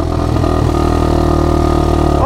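An ATV or dirt bike engine screams at high revs right up against the rev limiter, a loud, close, sustained buzzing roar with fluttering harmonics and no voices.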